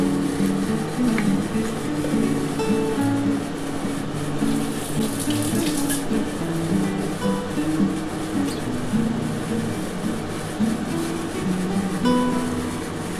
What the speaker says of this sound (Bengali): এবার গরম জলটা দিয়ে দিচ্ছি। দেখো এই যে প্রেসার কুকারের মধ্যে দেখো গরম জল দিয়ে দিয়েছি।